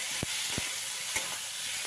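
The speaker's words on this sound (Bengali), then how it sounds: "আমার তো একদম ভাজা ভাজা হয়ে গেছে তার নাড়াচাড়া করে দিচ্ছি" Potatoes fry with ginger paste and tomato in a pan, giving a steady close sizzle broken by a few dull knocks as a spatula stirs them.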